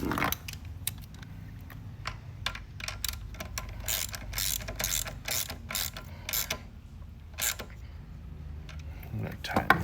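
A ratchet clicks in quick bursts while tightening a bolt during a remote start box installation, with sharp, close strokes repeating irregularly and some mechanical handling noise between them.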